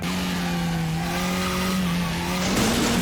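KTM race car in a racing video game, its engine holding a loud, steady drone as the rear steps out in oversteer, then rising sharply near the end with a hint of tire noise.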